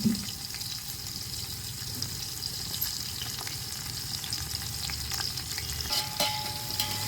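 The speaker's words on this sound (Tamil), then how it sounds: "இப்போ வதக்கிக்கலாம்." Sliced onions sizzle steadily in hot oil in a frying pan for a Sunday pongal biryani, a dense continuous crackle with small stirring scrapes, close and alone.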